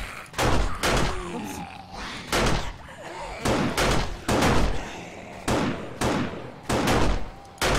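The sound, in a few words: gunshots in the video game 7 Days to Die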